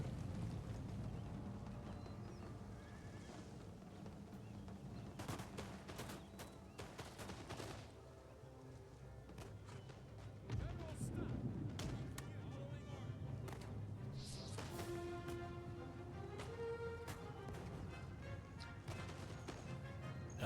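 Massed musket volleys in the video game Empire Total War, crackling fusillades and sharp gunshots rippling across a battlefield under a low rumble, with someone talking over the firing.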